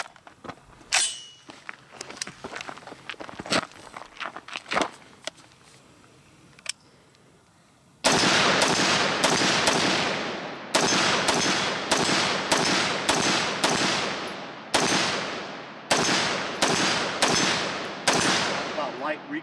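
HM Defense CommanderMB5 rifle firing about a dozen sharp, loud shots in quick uneven groups, after a stretch of quiet clicks and handling noises.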